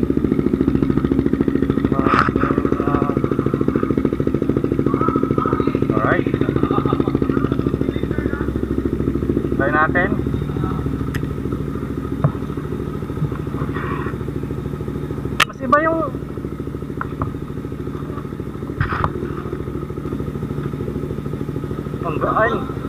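A CFMOTO 300SR motorcycle fitted with an upgraded aftermarket muffler and accessories runs steadily at a low, even idle throughout, with people talking over it at a meet-up.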